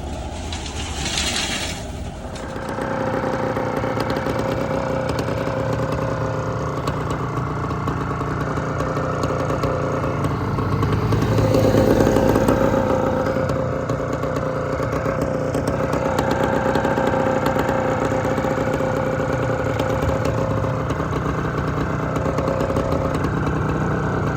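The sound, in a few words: skid steer engine running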